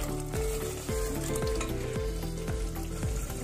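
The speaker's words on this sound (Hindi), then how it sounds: "तो अब हम इन्हें भूनेंगे अच्छी तरह से, भून लेंगे हम गोश्त को" Mutton pieces sizzle and fry steadily in oil in a pan for a bhindi gosht stew, with a continuous close crackle and a regular rhythm of stirring scrapes roughly every half second, with no voices.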